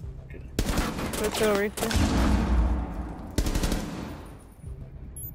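Rapid bursts of automatic gunfire crack in a Rainbow Six Siege match, two sharp loud volleys separated by a pause, with a player talking between them and faint background game noise.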